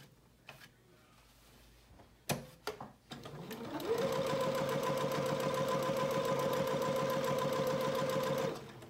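After a few clicks and handling noises, a sewing machine spins up and runs at a fast, steady rhythmic clatter, stitching a U-shaped seam on a child's apron, close and loud until it stops at the end.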